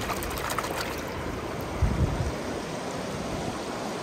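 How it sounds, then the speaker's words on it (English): A toy seal is moved about in water, giving a steady watery wash with a soft, low splash burst midway. No one speaks. "Let's put the seal down in the water and let it swim around."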